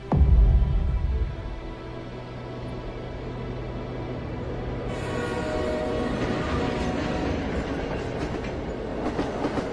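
A train runs steadily with a loud rumble and rhythmic clickety-clack of wheels on the rails, heavy at the start and then a sustained, even roar as a sound effect in a Bengali family audio drama, with no voices.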